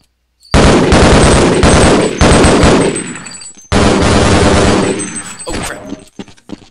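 Loud, close automatic gunfire in Half-Life: Blue Shift rattles in two long rapid bursts, separated by a brief pause and trailing off into a few scattered shots.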